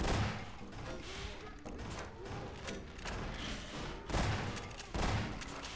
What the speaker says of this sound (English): Is she shooting the wall?